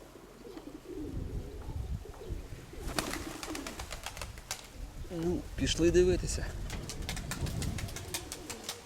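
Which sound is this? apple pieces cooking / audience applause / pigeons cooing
pigeons cooing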